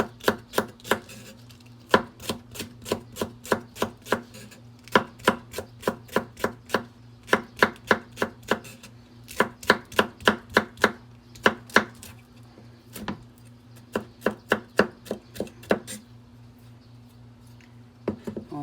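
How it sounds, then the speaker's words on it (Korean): Cheongyang chili pepper, already split lengthwise, chopped finely with a knife on a board: a long run of fast, regular, crisp taps, close and clear, with brief pauses between bursts over a steady low kitchen hum. "청양고추도 이렇게 반을 길게 갈랐어요. 이거를 잘게 썰어요."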